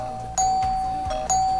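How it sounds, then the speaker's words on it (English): A doorbell rings over and over, two bright chime tones sounding in quick succession and repeating, loud and close against a steady background. "doorbell rang over and over"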